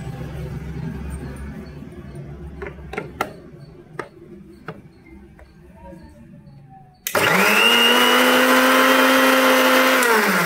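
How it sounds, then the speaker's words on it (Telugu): A kitchen mixer grinder blends garlic and curd for an organic pesticide, switching on abruptly after a few light clinks and then running as a loud, steady high-pitched whirr. "దీన్ని కూడా ఒకసారి మిక్సీ పట్టుకుందాం."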